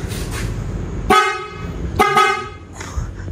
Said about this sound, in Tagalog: May busina na siya.